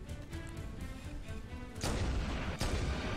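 Turret fire booms in the Halo 1 video game, a rumbling stream of heavy shots with two stronger blasts near the end, fairly faint under background game sound.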